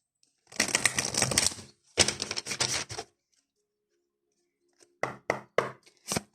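Tarot cards are shuffled in two brisk riffling bursts, then after a pause several sharp taps and slaps follow as cards are drawn and laid down, close and fairly loud.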